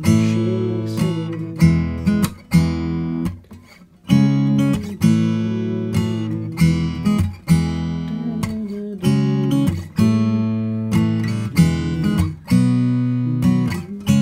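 An acoustic guitar strums a song's chorus, with rhythmic chord strokes and short muted gaps between phrases, played close and alone with no talking.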